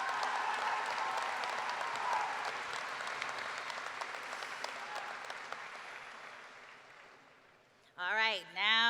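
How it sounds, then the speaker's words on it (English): A high school graduation audience applauds the students in a sustained, dense wash of clapping that gradually fades, and then a voice speaks over a microphone. "Please give them another round of applause."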